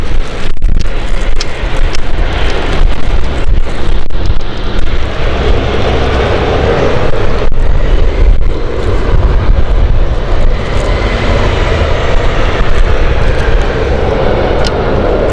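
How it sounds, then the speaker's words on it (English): Luxair Dash 8 turboprop taking off at London City airport in rough, windy conditions, a loud, sustained roaring engine drone with gusty buffeting throughout and no talking. "Very tough conditions to take off here for the Dash 8."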